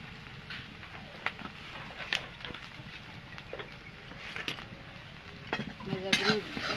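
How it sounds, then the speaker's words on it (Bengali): Ridge gourd korma being stirred in a pan after roasted cumin powder is added, with a low sizzle and intermittent scraping and clinking of the spatula against the metal, fairly quiet. "ভাজা গুঁড়ো দিয়ে নাড়াচাড়া করে নেব।"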